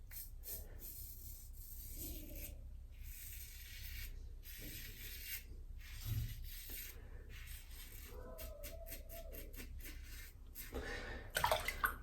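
Close, quiet scraping strokes of a blade shaving with an Abbate Y La Mantia "Don Jose" razor, short rubbing passes repeated in bursts with brief pauses between, with a few faint clicks and a soft rinse.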